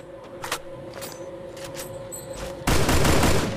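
Gunfire in the Free Fire mobile game while aiming for a headshot: a few sharp shots over a steady game hum, then a sudden dense burst of loud rapid fire for the final second.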